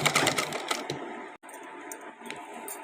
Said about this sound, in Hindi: तो पहले मैं आपको इस तरह से इस पर सिलाई लगा कर दिखाती हूँ कैसे।